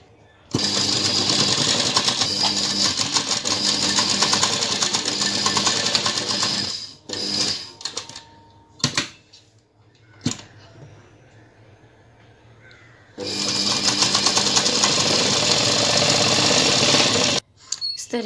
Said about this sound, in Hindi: देखिए आपको इस तरीके से स्टिच लगाना है।